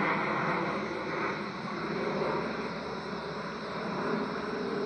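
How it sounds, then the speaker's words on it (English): Jet aircraft engine roar overhead, a steady broad rumble and whine that swells slightly near the start and end, fairly loud and continuous with no talking. "So if you can hear me over the jet aircraft"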